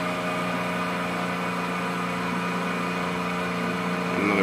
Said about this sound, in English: Pulling a nice strong vacuum.